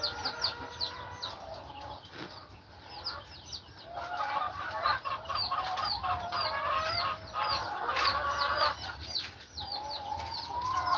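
Farm chickens cluck and chatter continuously in a coop during egg collecting, a dense, busy flock of overlapping clucks and squawks at moderate distance.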